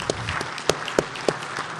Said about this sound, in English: Let's give all of them an applause.